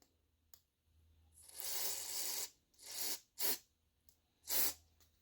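Bursts of carburetor cleaner hiss into a lawnmower carburetor during a tune-up, four separate sprays of varying length, the longest about a second, each close and loud with short quiet gaps between them.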